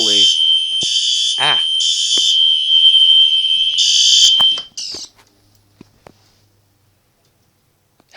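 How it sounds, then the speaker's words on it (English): A loud fire alarm blares up close in steady, high-pitched electronic pulses for about five seconds, then cuts out, leaving a few faint clicks. A brief voice is heard during the alarm. "Somehow the fire alarm went off when nothing's activated."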